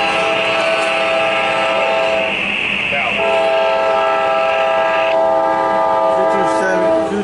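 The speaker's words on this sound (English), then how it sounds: "that's the coal train" A long empty CSX coal train rumbles steadily past nearby, its horn sounding in sustained chords that shift pitch midway through.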